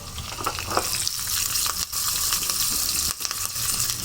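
Curry leaves hitting hot oil for a dhokla tempering, a loud close crackling sizzle with sharp spitting bursts and brief dips, steady throughout with no voices.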